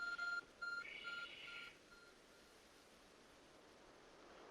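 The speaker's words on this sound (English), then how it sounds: "There's a glowing, beeping object over there." A glowing object beeps in Pokémon Legends: Arceus, giving a few short electronic tones in quick succession followed by a brief steady chime, all over a faint airy wash of ambient wind or surf.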